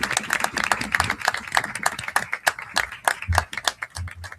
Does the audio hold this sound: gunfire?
no